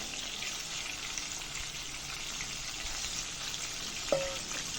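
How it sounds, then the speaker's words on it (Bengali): Pieces of fish fry in oil in a kadai with a soft, continuous sizzle and crackle. A brief clink of a utensil comes near the end, and no one speaks. "সেই তেলটার মধ্যে আমি আরও বাকি যেই তিন পিস মাছ রয়ে গেছে সেই মাছগুলো ভেজে নেবো"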